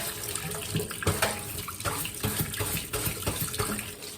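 Tap water runs steadily while freshly harvested mullein leaves are scrubbed clean in a sink, a continuous close splashing hiss with brief surges from handling the leaves.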